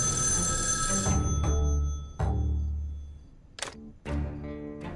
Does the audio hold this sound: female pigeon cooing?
no